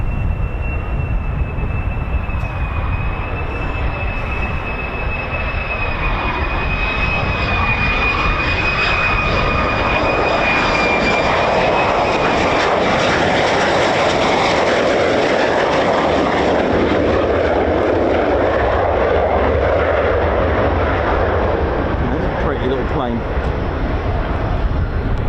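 An F-35 fighter jet roars past near RAF Lakenheath, a loud, sustained engine rumble with a thin whine that fades over about twenty-five seconds and fills the whole stretch.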